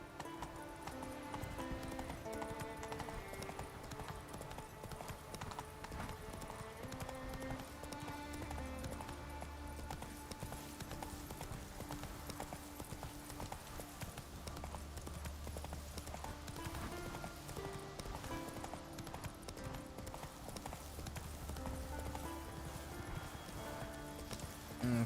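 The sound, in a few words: Geralt riding his horse Roach, hooves clip-clopping, Witcher 3 video game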